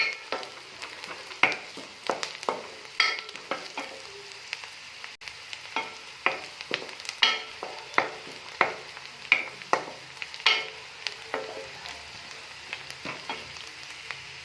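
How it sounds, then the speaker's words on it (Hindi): Cumin seeds sizzle and crackle in a hot pan while a utensil scrapes and stirs in a steady rhythm, close up with no talking. "और ज़ीरे को अच्छे से हम करेंगे मिक्स"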